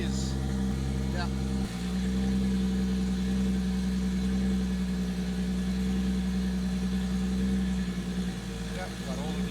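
Toyota Supra engine running steadily at idle with a loud, low droning tone, shifting pitch as the clutch is engaged and released while gears are selected.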